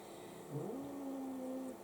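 Two cats growl at each other during a frantic indoor chase, a low drawn-out rising growl held steady for over a second, fairly close and not loud, with no talking over it.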